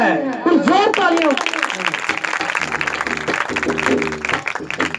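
An audience at a Christmas prayer meeting breaks into clapping, starting over excited voices and settling into brisk, rhythmic hand claps that carry through to the end, fairly close and loud.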